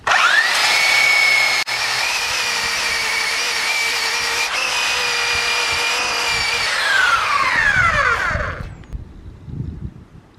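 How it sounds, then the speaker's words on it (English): A power sander works over epoxy and wood filler inside a sailboat's forward cabin during restoration, a steady loud whine running for about eight seconds before it spins down and stops. "We're going to get this thing sanded down and try to get it shaped a little bit better."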